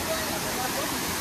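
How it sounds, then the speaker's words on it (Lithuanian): A waterfall in Albania gives a steady, dense rush of falling water, close and loud, in a short continuous burst. "Tai ką, priėjom krioklius, eisim maudytis"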